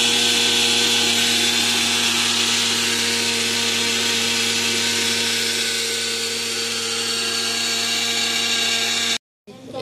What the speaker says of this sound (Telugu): సగ్గు బియ్యము వేయించిన దాన్ని నల్లగా వేయించుకున్న తర్వాత ఇట్లా మెత్తగా పొడి పట్టుకొని మిక్సీకి వేసేసి బాగా పట్టుకుంటే